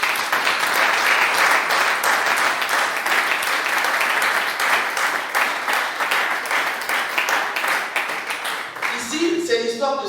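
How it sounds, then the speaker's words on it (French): Church congregation applauding, a dense, steady round of clapping that carries on for about ten seconds before tapering, with voices mixed in near the end. "Est-ce qu'on peut acclamer pour la parole de Dieu?"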